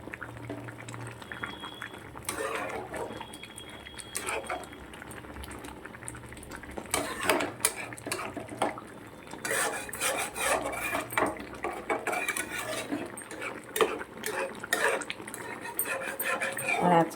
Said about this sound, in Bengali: এগুলোকে একটু ঘেটে দিচ্ছি